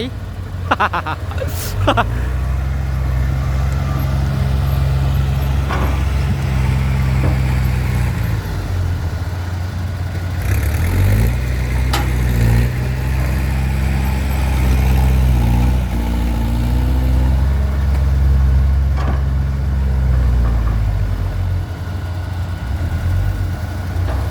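A heavy 240-horsepower diesel tractor engine runs steadily at close range in mud, rising and falling as it revs, with faint talk in the background.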